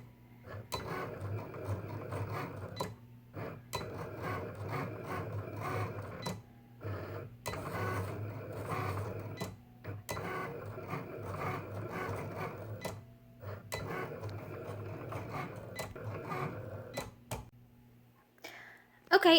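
A Cricut Explore cutting machine draws with a Sharpie pen held in a homemade CPVC adapter, giving a mechanical whir and scraping in repeated bursts separated by short pauses, with a voice talking at times.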